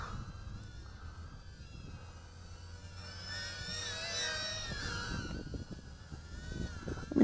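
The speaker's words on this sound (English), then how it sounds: "Wonderful little drone." An LDARC Kingkong Tiny 6X micro whoop FPV drone flies outdoors in a breeze, its faint, high-pitched motor whine rising and falling in pitch over soft wind noise, with a few thumps near the end.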